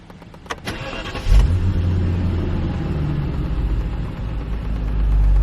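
A 2002 BMW 735Li (E66) push-button start: a brief starter whir, then the engine catches with a loud rumble and settles into a steady, close idle.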